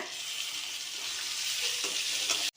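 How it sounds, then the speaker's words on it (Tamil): Tomatoes dropped into a hot frying pan for semiya egg biryani, an even crackling sizzle for a couple of seconds with a faint stir, ending abruptly, no talk. "தக்காளி சேர்த்துக்கிறேங்க"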